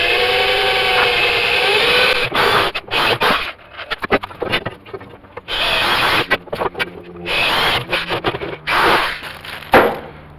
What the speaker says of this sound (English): I'm going to drill a hole in the top of a flame so I can bolt the 3 pieces together